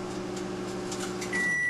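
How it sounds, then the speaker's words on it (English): A microwave oven cooking chicken gives off a steady low electrical hum, and near the end a high tone sounds, likely the finishing beep. "Today I'm trying it in the microwave."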